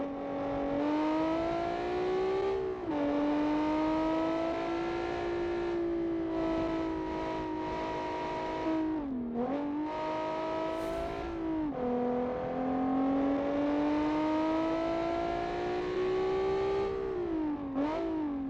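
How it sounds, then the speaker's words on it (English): Loud, close V6 rear-wheel-drive race car engine revving steadily high, with brief dips at gear changes before it climbs again; no talking. "V6 sounds amazing."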